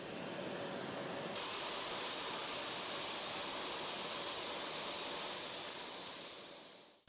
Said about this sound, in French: L'arrivée de l'avion est ici inaugurée par le traditionnel jet d'eau en guise de célébration.